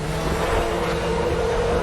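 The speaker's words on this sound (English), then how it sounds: "You can hear those tires squealing a bit, but still no loss of traction." A DTM race car from the 2003–2005 era laps the Nurburgring in RaceRoom, engine roaring steadily with a broad, continuous tire squeal blended into the drone throughout.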